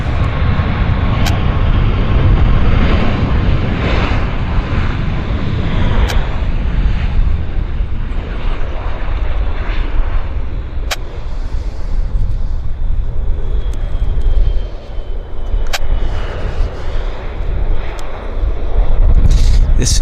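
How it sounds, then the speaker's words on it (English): An Air Canada airliner rolls out after landing on runway 26 right at Vancouver's YVR, a loud broad roar of engines and rushing air that gradually eases, with a few sharp clicks over it. "Air Canada touchdown."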